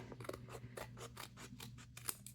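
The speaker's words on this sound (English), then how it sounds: "and then I think that just trim right down this line" Scissors trimming craft paper for bee-themed journal ephemera, a series of crisp snipping cuts in a steady rhythm, close and quiet.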